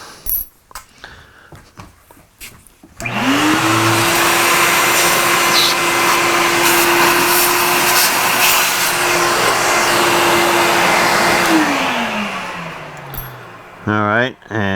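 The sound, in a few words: power tool cutting a chamfer half an inch deep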